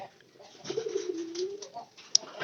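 A domestic pigeon gives one low, drawn-out coo, quiet and close, against a hushed background with a faint click near the end.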